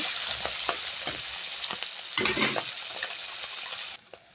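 Small puti fish, rubbed with salt and turmeric, frying in hot oil in a pan, giving a steady crackling sizzle with bursts of spitting and a louder flare-up partway through, with no talk over it.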